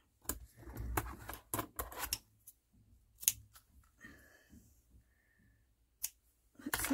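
Scissors snipping through leaf ribbon, a quick series of close, crisp cuts and clicks, then scattered quieter rustles and a few more snips.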